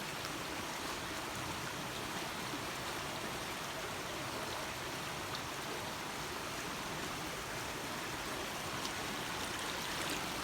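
Outdoor stream of flowing water in Sweden on a sunny day, a continuous dense rushing and babbling wash that stays steady and close throughout, with no voices.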